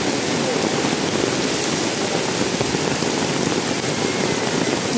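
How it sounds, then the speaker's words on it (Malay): Heavy rain pours steadily at a campsite, a loud, dense, continuous hiss of drops on surfaces with no break. "Hari ni hujan agak lebat guys berbanding semalam."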